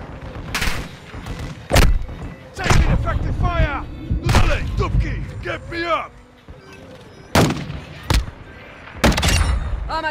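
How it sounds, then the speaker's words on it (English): Cruise missile strike explosions in Call of Duty: Modern Warfare II, heavy booms and blasts recurring across the battle with a loud rumbling backdrop, under game voice radio chatter. "Friendly cruise missile inbound."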